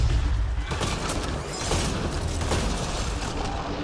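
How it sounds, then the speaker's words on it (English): Shotgun fire rings out in the Mass Effect Andromeda video game as a dense, continuous barrage of loud booming blasts and clatter that fills the whole stretch without a break. "Shotgun's good for that."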